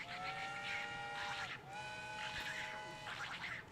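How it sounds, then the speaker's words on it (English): A cartoon train whistle censors Donald Duck's speech, blowing in repeated wavering bursts over a soft ambient background. "The train noise is Donald when he's wigging out."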